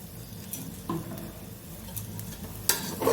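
Khichuri with ghee is stirred in a pot on the stove, with a soft continuous sizzle under occasional spoon scrapes and a sharper knock of metal near the end.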